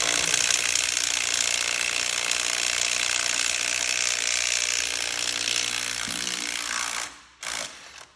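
A Klein Tools impact driver fastening, loud, close and continuous, with a steady rapid hammering rattle that cuts off near the end. A brief final burst follows, with no talk.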